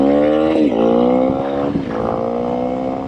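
A Honda CRF 300L motorcycle engine under way while short shifting, a close, steady buzzing drone whose pitch drops briefly at each quick gear change, with no voices.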